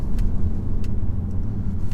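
A 300hp Volvo V60 B6 being driven, its engine giving a steady, deep, thrumming drone with road rumble heard from inside the cabin, continuous and even throughout with no voices.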